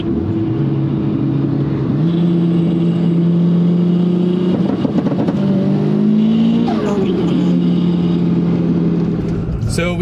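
Nissan S15 with a big turbo and anti-lag held at steady revs, its loud, close engine drone shifting pitch slightly through the run, with a brief sharp burst at the very end.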